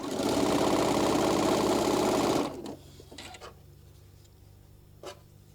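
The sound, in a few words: sewing machine stitching table runner quarter inch seam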